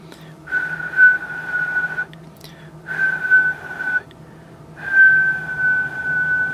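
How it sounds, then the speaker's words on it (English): Steady whistled tone into a microphone during a ham radio antenna tuner test, sustained in three long bursts separated by brief gaps, clear and moderately loud with a low hum underneath. "So we can give a little whistle."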